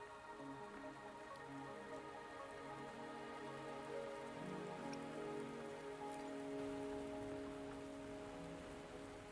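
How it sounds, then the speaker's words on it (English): Steady rain pours down in the video game Wuthering Waves, a dense continuous patter on surfaces with faint musical tones underneath, with no voices. "Are you trapped here by the rain?"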